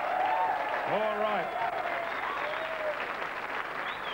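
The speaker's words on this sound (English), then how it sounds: "give her a round of applause" Studio audience applause on the Australian TV game show Let's Make a Deal, a steady moderate wash of clapping running the full length under a host's voice and a brief spoken remark.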